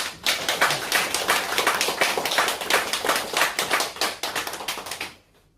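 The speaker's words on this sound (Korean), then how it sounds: "또 박수 한번 해주십시오." A church congregation claps together during a Sunday worship service, steady rapid hand claps filling the room loudly for about five seconds before stopping abruptly.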